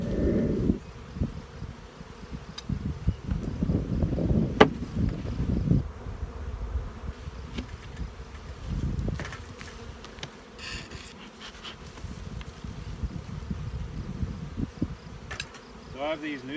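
Honeybees swarming around small nuc hives set out for queen mating, a dense continuous buzz up close with swelling bursts as individual bees pass near, steady throughout outdoors.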